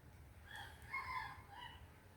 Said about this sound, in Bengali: এই যে ঘরের পিছনে কচু বনে মোরগ ডাকছে